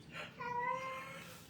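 A cat meows once in a drawn-out, rising and falling call, fairly close and clear over a quiet room, with no talking during it.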